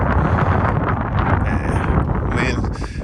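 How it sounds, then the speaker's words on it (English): Wind gusts hit the microphone outdoors beside a Porsche 911 GT, a loud steady low roar with faint rustling that holds throughout the short stretch. "Wind is going to attack us today."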